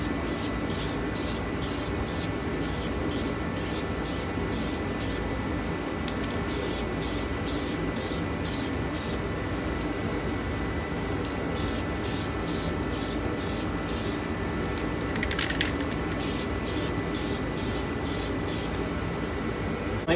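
Aerosol paint sprayed onto an 18-inch 2008 Chrysler 300C alloy rim, heard as a long run of short hissing bursts in a steady rhythm, fairly close, with no talking.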